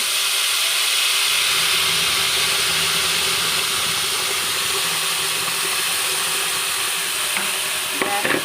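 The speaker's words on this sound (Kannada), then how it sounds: "ಈಗ ತುಪ್ಪ ಬಿಸಿ ಆಗ್ತಾ ಬಂತು ಈ ಬಿಸಿಯಾದ ತುಪ್ಪಕ್ಕೆ ನಾವು ಗ್ರೈಂಡ್ ಮಾಡಿದಂಥ ಬಾಳೆಹಣ್ಣಿನ ಪೇಸ್ಟನ್ನು ಹಾಕಬೇಕು" Ground banana paste sizzles steadily in hot ghee while making banana halwa, a loud continuous frying hiss with a brief clatter of the pan near the end.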